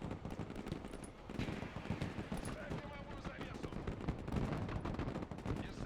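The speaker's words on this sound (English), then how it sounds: "This side is getting hammered by the artillery. There's the mortars back there." Artillery, mortars and gunfire in the war game Broken Arrow crackle as dense, rapid bursts of distant and mid-range shots, a steady barrage with a voice faintly present.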